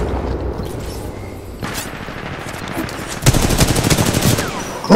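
Gunfire from the video game Titanfall 2: a few scattered shots, then a dense rapid automatic burst near the end, loud and close over a low game soundscape.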